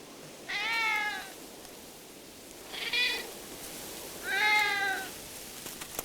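A wild cat in the arid Australian desert gives three drawn-out meows, evenly spaced, each clear and moderately close against a quiet, faintly hissing outdoor background.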